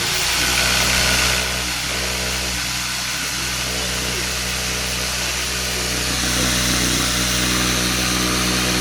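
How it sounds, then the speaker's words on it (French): A foam saw with moving blades cuts through foam, guided on a small foot with wheels in a nautical workshop, giving a steady, loud mechanical drone with a low hum that holds throughout. "C'est une scie à mousse."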